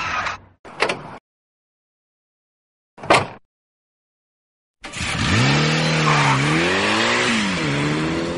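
A car engine starts up after a few short door-like knocks and silence, then runs loud and close with rising and falling revs.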